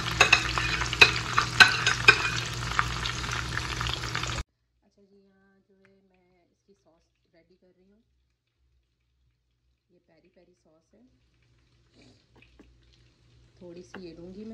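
Masala-coated chicken shallow-fries in a pan, crackling and sizzling densely for about four seconds before near silence, after which a voice speaks faintly.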